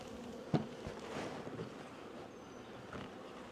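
Honey bees buzz around an opened hive while a super is being swapped, a steady diffuse hum with wind noise and a sharp knock near the start.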